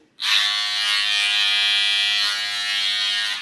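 A cordless hair clipper switches on and runs with a steady, loud, high-pitched electric buzz close by.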